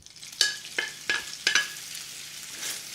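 Chorizo, about a quarter pound, dropped into hot oil in a skillet, with several sharp sizzling bursts as pieces hit the pan, then a steady low frying hiss.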